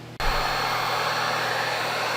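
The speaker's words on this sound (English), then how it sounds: "I got the heat gun going" A heat gun switches on and blows a steady, loud rush of hot air with a faint motor hum, continuous after a brief click, aimed at a dented plastic Jeep Wrangler bumper.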